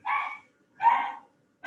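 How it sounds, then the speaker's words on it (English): A pet dog barks three separate times in a sparse, regular rhythm, each bark clear and moderately loud against a quiet indoor background. "Sorry about my dog in the background."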